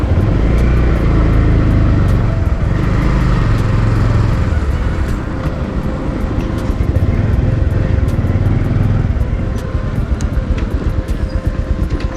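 A motorcycle rides the rough off-road route from Jiri Bazaar to Tame Danda in Nepal, its engine a loud, close, continuous drone with steady rumbling throughout.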